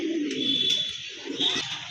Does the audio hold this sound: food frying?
no